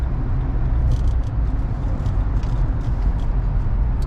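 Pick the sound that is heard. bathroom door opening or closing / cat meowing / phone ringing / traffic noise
traffic noise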